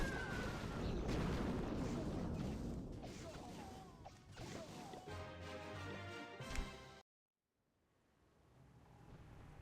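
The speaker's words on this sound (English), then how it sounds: "Bomb towers go burr." Bomb tower attack in Clash of Clans, with heavy booming blasts and crashes piling up in a loud, dense burst. A sharp cut to near silence follows.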